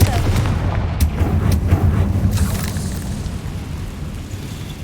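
Confringo fire spell blasting in Hogwarts Legacy, a heavy booming burst with a rumbling low-end roar that rolls on and slowly fades over several seconds.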